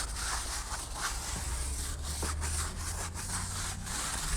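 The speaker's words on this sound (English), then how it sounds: "So let me just keep scrubbing it down." Steady, close scrubbing of a brush working foam over a tire on a Bollinger B1 prototype truck, with a continuous rough rubbing texture and no talk.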